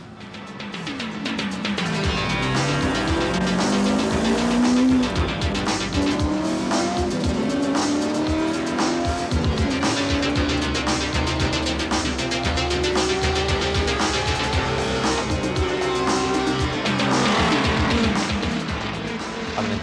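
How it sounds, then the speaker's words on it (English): Peter Brock's race car, heard in 1986, drives hard around a track: a loud, continuous engine note climbs through repeated rising pitch sweeps between gear changes, with tyre squeal and no talking. "for a ride with the fastest set of wheels on the track?"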